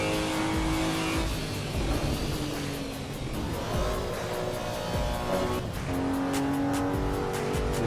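A race car engine in Assetto Corsa EVO drones and revs continuously up close, its pitch climbing and falling through gear changes, with a hint of tire noise and no voices.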